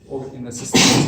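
A person gives a single sharp sneeze, preceded by a short intake of breath and murmur, bursting loud and close at the end of an indoor talk.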